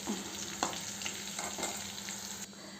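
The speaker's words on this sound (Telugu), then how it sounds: "కాకరకాయ ముక్కలన్నీ వేసేసుకొని డ్రీ ఫ్రై చేసి పక్కన పెట్టుకోవాలి" Pieces of bitter gourd dry fry in hot oil for a Rayalaseema-style curry, a steady close sizzle with occasional stirring clicks and scrapes, no voices.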